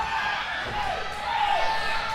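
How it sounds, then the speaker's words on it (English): A wrestling event crowd roars and cheers in a sustained, dense wash of voices through a short stretch, steady and moderately loud, with a commentator talking over it. "The crowd's coming alive right now."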